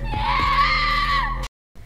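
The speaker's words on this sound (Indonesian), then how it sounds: "Sun mendengar teriakan Ichika yang sedang dikejar oleh boneka itu." A girl screams in terror as a doll chases her in a horror film, one loud, sustained shriek of about one and a half seconds over a low rumbling background that breaks off abruptly.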